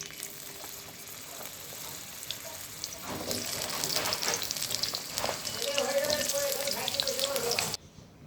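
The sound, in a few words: pumpkin pieces added to hot oil, frying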